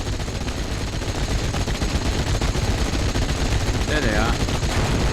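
Continuous loud gunfire and battle noise from a tank engagement against an MG-42 position in Steel Division Normandy 44, dense rattling bursts with a brief tonal warble near the end.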